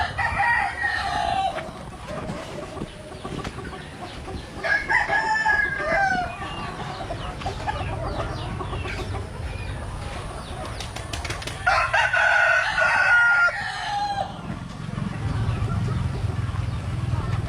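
Backyard chickens cluck and flap around a coop while a rooster crows several times, loud and close, over steady outdoor ambience with occasional voices.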